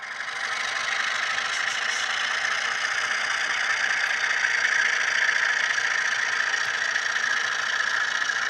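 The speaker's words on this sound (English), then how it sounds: "you've got to hear how good the sound of this ESU decoder is. Sounds just like an Alco." An HO scale model locomotive with an ESU sound decoder reproduces an Alco RS-3 diesel engine, a steady, close, continuous mechanical drone that holds level throughout with no talk.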